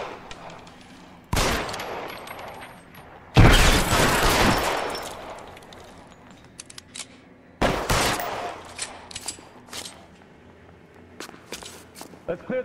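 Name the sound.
gunfire in LA Noire video game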